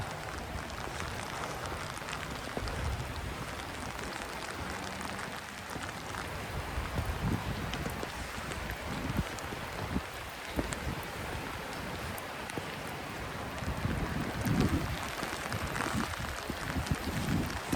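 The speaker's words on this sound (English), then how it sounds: "It's a rainy day." Rain falls steadily outside an abandoned movie theater in Centennial, Colorado, a continuous broadband patter and hiss with gusty wind buffeting the microphone, fairly faint and spread evenly over a long stretch with no voices.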